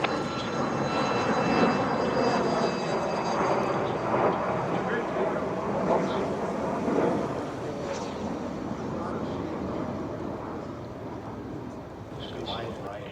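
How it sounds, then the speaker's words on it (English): A Lockheed T-33 jet makes a single pass down the runway at an airshow, a broad roaring rumble that swells and then slowly fades as it goes by, with a voice talking over it. "Okay, one more pass down the runway, single shift, T-33."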